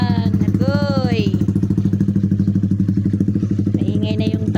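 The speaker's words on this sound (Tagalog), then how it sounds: "Maingay na yung tambutso." A loud motorcycle exhaust, fitted with a turbo, pops and rumbles in a steady, rapid beat, close by, while a voice speaks briefly over it.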